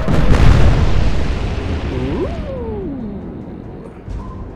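A naval gun salvo fires in the Atlantic Fleet warship game, a heavy booming blast that fades into a long rumble, with whistling shell sounds sweeping through the decay and a smaller thud near the end.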